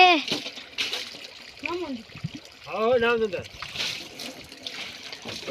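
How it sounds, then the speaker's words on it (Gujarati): Water sprays and splashes steadily while a Bajaj RE CNG auto rickshaw is washed during servicing, a continuous close hiss with people talking over it. "આ સાઈડ પાણી ઉડે છે"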